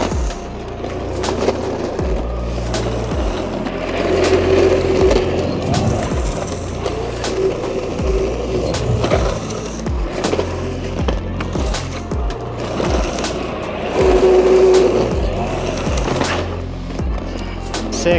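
A skateboard rolls and grinds on pavement through long slides and turns, with loud rough swells of wheel noise and sharp clacks of the board, almost no talk.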